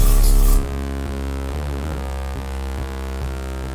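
A Serum synthesizer running its basic init patch plays a pitched MIDI pattern as a dense, buzzing tone rich in overtones. A loud pulse opens it, then the note sustains and wobbles steadily with slight pitch movement.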